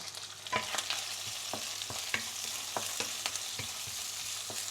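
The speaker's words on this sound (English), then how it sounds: "Give it a few stir." Meat, prawn and fish cake stir-fried in a hot pan for wan tan mee sua, a soft steady sizzle punctuated by a dozen or so sharp spatula clacks and scrapes at an irregular pace, close and without speech.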